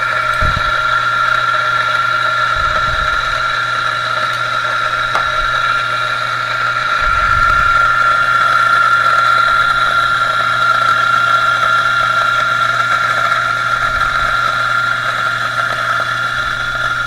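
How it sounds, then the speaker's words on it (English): DF54 coffee grinder grinding 16 grams of Sumatra organic beans at setting 8, a steady close motor whine with a constant hum running throughout, alone without talk. "And I'm going to grind them in the DF54, grind setting 8."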